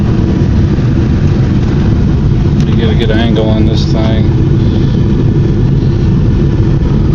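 A cold 1999 Ford F250 engine runs with a loud, steady low rumble that continues throughout, and someone speaks briefly over it partway through.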